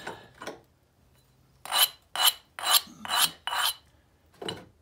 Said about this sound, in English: So I'm gonna grind it.